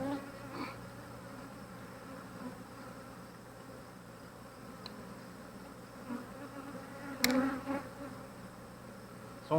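Honeybees buzzing around an opened Flow Hive during a morning inspection, a steady close drone of many wings with a few sharper passes near the end.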